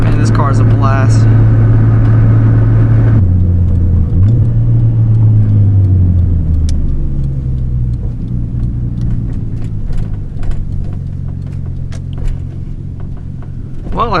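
Straight-piped RB20 in an R32 Skyline GTS-T driving, loud close engine note revving then settling into a steady rumbling cruise as speed drops, with some voice over it.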